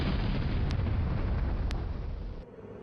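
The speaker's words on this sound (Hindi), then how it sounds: "एयरबेस के भीतर विस्फोट की 2 तेज आवाजें भी सुनाई दी।" Loud, rumbling blasts inside the Pathankot airbase during an attack, a dense wall of booming noise that cuts off sharply near the end.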